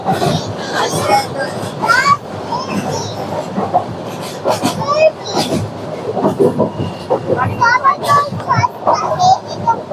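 Train carriage pulling into Uttara station with a rattling, clattering ride and rising chatter of passengers, including children, as people board; loud and close throughout.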